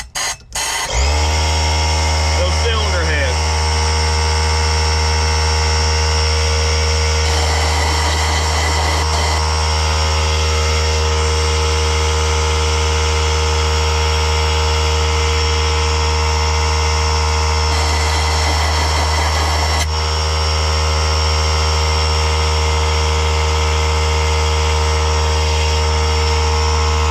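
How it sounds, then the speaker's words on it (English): A loud air compressor starts up and runs steadily near a stranded Sea-Doo jet ski being serviced, a constant mechanical hum with a strong low drone and brief rattling surges. "So the air compressor came on, it was really loud"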